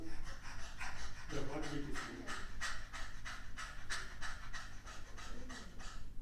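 Rapid, rhythmic panting breaths from a voice imitating a dog, quick in and out puffs repeating steadily throughout.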